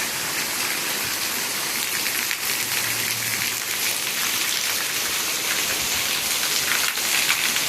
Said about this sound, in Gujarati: તો કેવો વરસાદ પડી રહ્યો છે જોઈ શકો છો.